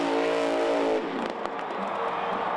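At a Monster Jam event, the Son-uva Digger monster truck engine roars with a steady harmonic drone, then cuts to rough, noisy rumbling as it is hammered hard.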